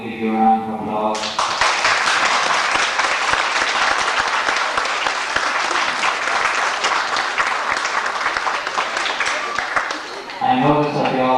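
An audience at a camogie reunion breaks into loud, sustained applause for about nine seconds, with speech heard briefly before and after the clapping.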